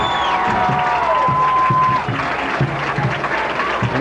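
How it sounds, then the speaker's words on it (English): Crowd applause and cheering in the stands at a 1993 high school homecoming football game, a steady clapping roar with rhythmic thumps beneath, heard at a distance and sustained throughout. "again they get a round of applause"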